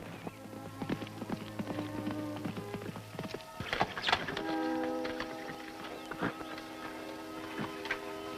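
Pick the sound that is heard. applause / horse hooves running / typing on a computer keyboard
horse hooves running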